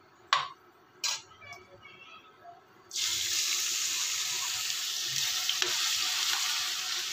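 Potato pieces drop into hot oil after a couple of knocks, then a loud, steady frying sizzle sets in and continues close up.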